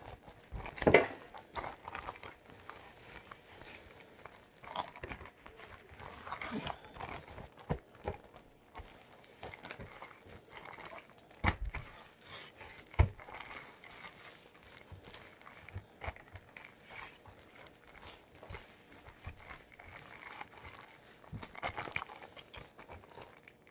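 Bread dough and flour shaken together inside a sealed plastic bag, giving steady crinkling and rustling with irregular louder bursts of sloshing and crumpling throughout.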